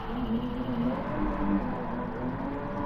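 Steady engine drone from a McLaren F1 with a BMW 6.1-litre V12 in GT Sport at the Red Bull Ring, held at a constant loud level with slight pitch wavers and no talk.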